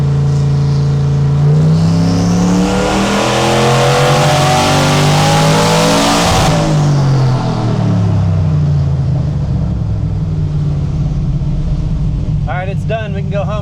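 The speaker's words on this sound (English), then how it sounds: "we're about ready to make our first full throttle run" A 765 hp Mustang engine runs on a dyno at full throttle, tuned on pump gas with Holley EFI: a loud, steadily rising roar that peaks, then falls away as the revs drop, with voices briefly at the end.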